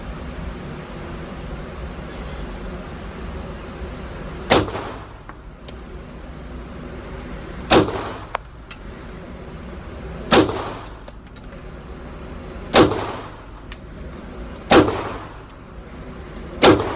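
Six sharp gunshots of jacketed hollow point rounds ring out at steady intervals of two to three seconds, each a loud crack with a brief ringing decay, over a faint background hum.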